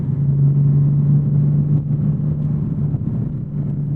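A 2024 Porsche 718 Boxster GTS 4.0 engine hums with a low, steady drone, rising and settling slightly in gentle throttle blips in a mode with softened throttle response, close by and continuous.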